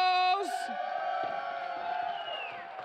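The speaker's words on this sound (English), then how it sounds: "The crowd is hyped today" A live audience at the After Hours Gaming League Season 4 Grand Finals for StarCraft II and League of Legends roars and cheers, a sustained wash of crowd noise after a loud voice shouting an opening announcement.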